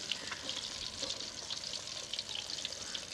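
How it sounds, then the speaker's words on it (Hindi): Fish pieces for fish karahi fry in hot oil with a soft, steady crackle and bubbling that goes on without a break. It sits fairly quiet and close, and nobody speaks. "ये पीसेस भी हमारे फ्राई हो गए हैं"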